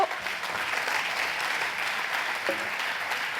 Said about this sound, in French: On va vous applaudir pour la photo.